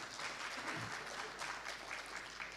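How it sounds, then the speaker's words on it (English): Faint, distant applause from a conference audience at an international CEO forum for Asia-Pacific financing institutions, an even wash of clapping with no talk over it. "May I have a big round of applause for all of us?"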